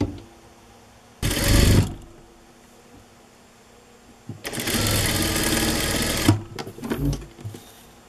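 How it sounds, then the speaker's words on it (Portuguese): A sewing machine runs a topstitch along a dress seam in two bursts, a short run and then a longer steady whirring stretch, close and clear over a quiet room. "E passa um pesponto."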